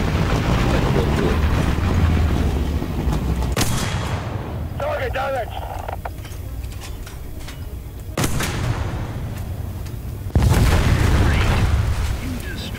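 In War Thunder tank combat, heavy cannon booms hit in three sharp blasts spaced several seconds apart over constant engine rumble and battle noise, loud and close, with brief voice fragments in between.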